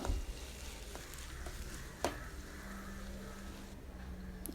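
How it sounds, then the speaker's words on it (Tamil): Faint, steady sizzling of chopped onions frying in oil in a pan, with a brief clatter of a utensil stirring partway through. "பொடியாக நறுக்கி வச்சுருக்கக்கூடிய 2 பெரிய வெங்காயத்தை போட்டுட்டு நல்லா வதக்கி விட்டுறலாம்"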